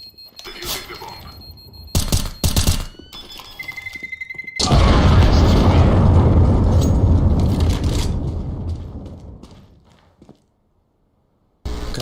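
A bomb explodes in the video game CS:GO: a sudden loud blast follows sharp gunshots and beeps, and its roar holds for several seconds before fading into silence. Voices talk in the clip.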